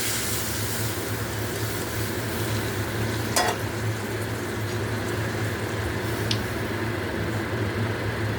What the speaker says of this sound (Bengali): এবার আমি ওই গরম জলটা এর মধ্যে দিয়ে দিচ্ছি।